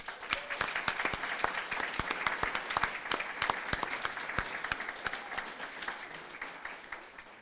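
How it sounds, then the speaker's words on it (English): Steady applause fills the hall at an ESCP business school graduation ceremony: many hands clapping in a dense, even patter with sharper individual claps standing out, continuing without a break. "a big applause for Anna Bersalovic"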